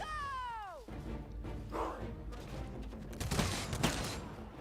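Gunfire from units shooting in the strategy game Humankind, a burst of crackling shots and impacts building in the second half over game effects and music, fairly loud and close.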